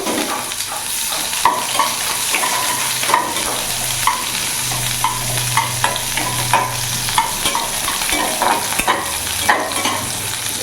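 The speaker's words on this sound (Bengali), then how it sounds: "আমি এবার এখানে একটা পেঁয়াজ নিয়েছি, পেঁয়াজটা পুরোটা দিয়ে দেবো" Onion dropped into hot refined oil in a wok gives a loud, steady sizzle that fills the whole stretch, broken by scattered scrapes of a spatula stirring, with no voices.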